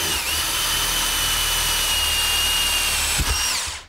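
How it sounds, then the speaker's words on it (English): A power drill bores a pilot hole through wooden 2x4s, a loud, close, continuous high whine with a steady grinding undertone, ending with a brief knock as the bit breaks through. "now we're going to drill our pilot hole right here"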